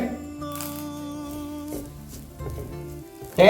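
Grated coconut, fennel seeds and curry leaves hit hot oil with a soft crackling sizzle that stays fairly quiet, broken by faint stirring clatter and ending in a sharp louder burst of frying.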